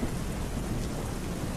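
A thunderstorm with steady heavy rain, a dense, continuous wash of downpour with low thunder rumbling beneath it, loud and unbroken throughout.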